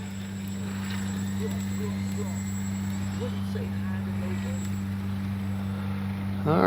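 Bronco RC plane running on the ground before takeoff, a steady loud motor drone with strong low tones holding throughout and swelling at the very end.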